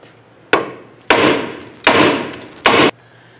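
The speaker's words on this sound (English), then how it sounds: "we're going to go ahead and strike the knuckle to release this upper ball joint." A hammer strikes the steel steering knuckle of a 2005-10 Jeep Grand Cherokee to release the upper ball joint, four loud, evenly spaced metallic blows, each ringing briefly before fading, with no talk.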